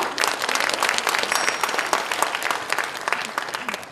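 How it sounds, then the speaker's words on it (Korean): Crowd applause at a Democratic Party provincial chapter joint campaign rally for party leadership candidates in Jeonbuk, a thick, continuous wash of many people clapping at steady loudness with no voices over it. "박수를 치셨으니까"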